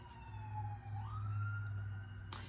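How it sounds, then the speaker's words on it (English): A wailing emergency vehicle siren sweeps steadily over a constant low engine rumble, loud and continuous with no voices, ending in a short burst of broadband noise. "That siren may be significant for someone."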